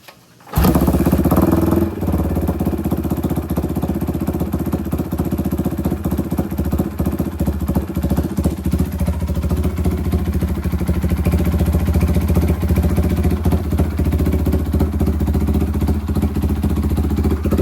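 A Raider 400cc motorcycle engine starts abruptly and runs steadily close by, a loud sustained rumble that holds for the whole stretch with no speech over it.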